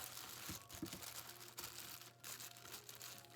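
A plastic bag crinkles and rustles as it is pushed inside a tumbler cup, with quiet, close, irregular crackles and a couple of sharper scrunches near the start.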